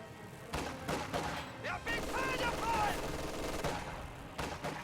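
Bursts of MG42 machine gun fire in a World War II strategy game battle, sharp repeated shots among other gunfire and explosions, with game voices and effects layered over the continuous combat noise.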